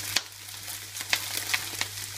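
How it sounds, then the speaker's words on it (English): Hot sunflower oil sizzles and crackles steadily in a pan as a sweet potato stir fry goes in, a close, continuous frying hiss with small pops and no talk. "So you can hear that sizzle straight away."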